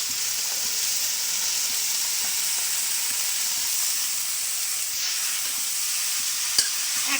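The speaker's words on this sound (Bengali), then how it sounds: "এখন কচুগুলো দিয়ে দেবো।" Taro pieces tipped into frying prawns in oil and stirred in a pan, producing a steady close sizzle with occasional spatula scrapes and a sharp clack near the end, without speech.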